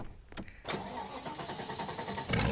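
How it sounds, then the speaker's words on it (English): A 1986 TVR V8S in the Roblox game Driving Empire, its simulated engine catching after a few clicks and then running in a steady low drone, quiet and alone. "So, we are now driving our TVR V8S."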